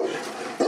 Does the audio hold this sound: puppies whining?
yes